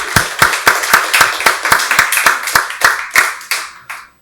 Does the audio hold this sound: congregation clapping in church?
yes